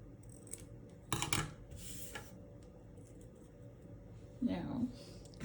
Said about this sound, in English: again, snip the paper.